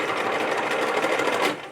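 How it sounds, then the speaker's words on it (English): Close, loud steady whir of a sewing machine running in reverse stitch mode back over a seam on a small McCall's wallet/wristlet, the needle's rapid ticking ending in a brief slowdown. "I'm going to put my machine in the reverse stitch mode and go back over it."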